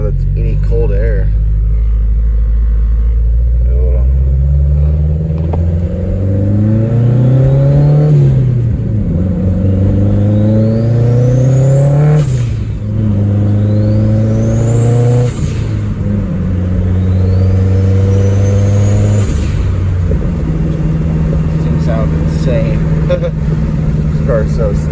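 A tuned 450 hp Honda Civic EP3 engine revs hard several times, climbing and falling in loud, close sweeps, with speech running under the engine noise.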